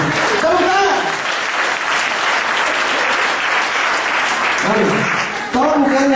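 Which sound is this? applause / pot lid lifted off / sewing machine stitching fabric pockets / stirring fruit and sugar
applause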